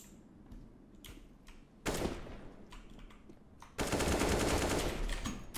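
Video game gunfire: scattered single shots at first, then two loud sustained bursts of rapid automatic fire, the second running to the end.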